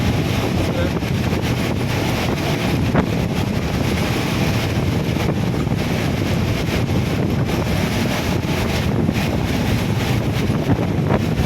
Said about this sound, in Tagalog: Malakas yung tihip ng hangin.